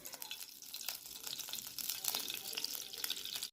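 Ghee sizzling in a hot pan on a gas stove, a close, bright crackling hiss with small pops and bursts that runs steadily until it cuts off abruptly near the end.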